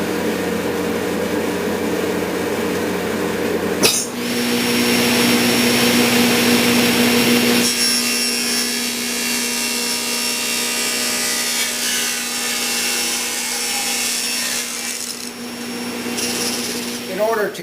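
Table saw in a woodworking shop cutting a wood piece clamped to the fence against a stop block for a fireplace mantle: a steady high motor whine, then a louder, rougher roar as the blade bites and cuts for several seconds before easing.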